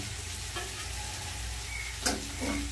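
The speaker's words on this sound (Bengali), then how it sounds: "মাংস কিন্তু এখানে ভালো মতন কষানো হয়ে গেছে" Chicken kosha fries in a pan with a low, steady sizzle, plus a few soft stirring scrapes and a brief clatter near the end.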